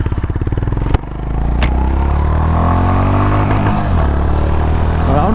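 Honda CB350 RS motorcycle on the road, a close thumpy engine idling with rhythmic pulses before a sharp gear clunk, then pulling away into a rising, sustained roar.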